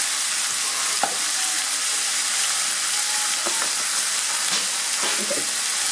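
Sizzling meat for carne guisada being stirred in a pan with onion and garlic powder, a loud, steady frying hiss broken by a few scraping strokes of the spoon, close and without talk.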